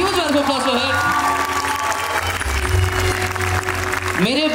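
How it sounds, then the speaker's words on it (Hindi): Audience clapping for a guest brought on stage at the opening ceremony of a show, steady applause with some cheering, under a presenter's amplified voice. "Can we have a huge round of applause for her?"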